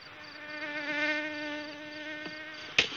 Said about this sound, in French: La moustique.